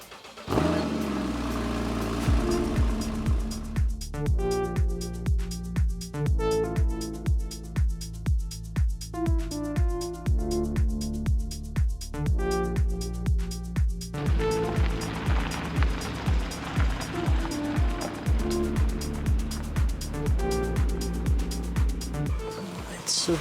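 A modified Porsche drives along with a steady engine drone while music with a strong rhythmic beat plays loudly over it throughout.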